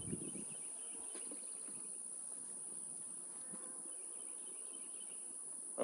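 Bees from a small new swarm in a hive hum softly and steadily for the whole stretch, with a faint insect drone, a high constant whine and light outdoor rustle and no talking.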